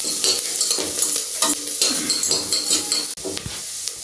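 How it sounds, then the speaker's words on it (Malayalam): Onion masala sautéed in a pan for egg biryani sizzles close up, with a spoon stirring and scraping against the pan in repeated strokes and no voices. "നന്നായി ഒന്ന് വഴറ്റിയെടുക്കാം ഇത് നന്നായി വഴറ്റിയ ശേഷം ഗരം മസാല ചേർത്ത് കൊടുക്കാം"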